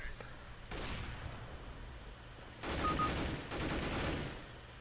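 Bursts of automatic gunfire from the game CS:GO, loud rapid volleys at around a second in and again near three and four seconds, with shorter gaps of quieter game ambience between.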